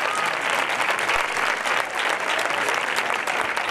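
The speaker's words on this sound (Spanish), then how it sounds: "Venga, un aplauso para estos niños tan guapos." A crowd applauds the children at a queen's coronation during the Facinas fair, with thick continuous clapping from a large audience, loud and even from start to finish.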